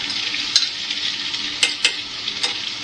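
Garlic, ginger and chili paste frying in hot oil gives a steady close sizzle, with a few sharp spoon scrapes and stirring clinks against the pan.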